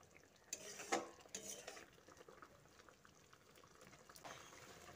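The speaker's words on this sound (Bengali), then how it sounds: "এবার আমি ভালোভাবে একটু মিশিয়ে নিচ্ছি" Spoon stirring a cabbage and egg mixture in a cooking pan, faint scraping and light clinks with a couple of sharper knocks early on, over a soft background hiss.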